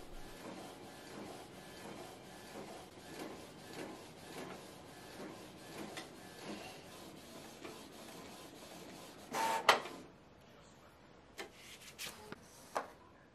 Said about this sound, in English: And then last but not least is the printing process.